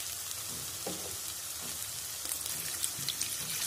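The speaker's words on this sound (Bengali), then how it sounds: "আদা রসুনটাও ভাজা হয়ে গেছে" Ginger and garlic frying in a pan before water is added, a soft steady sizzle with faint stirring taps, no talking.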